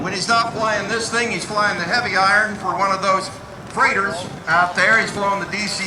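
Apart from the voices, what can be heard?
No distinct noise like a dog, phone or traffic.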